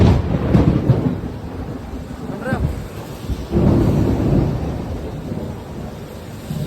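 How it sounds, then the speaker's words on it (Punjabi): Steady rain pours down with low rumbles of thunder rolling through, a brief higher-pitched sound in the middle, and no talking, heard from under a bus stand shelter in Madhya Pradesh. "ਮੀਂਹ ਨਹੀਂ ਹਟ ਰਿਹਾ ਯਾਰ"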